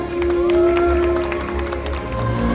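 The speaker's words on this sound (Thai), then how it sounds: "ขอเสียงปรบมือให้กับรองชนะเลิศอันดับที่สองนะครับ" An audience at a Shell Mechanic Champions League 2024 awards ceremony claps for the second runner-up in the car mechanic category, with steady moderate applause and a sustained tone underneath.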